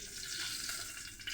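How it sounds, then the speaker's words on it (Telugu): Oil sizzles steadily in a pan on a lit stove while preparing an eggplant curry, a continuous close hiss with no voices. "స్టవ్ వెలిగించుకొని ఇందులో ఆయిల్ పోసుకుంటున్నాను నేను"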